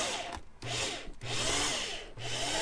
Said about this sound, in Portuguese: Mas agora vamos fazer o primeiro furo.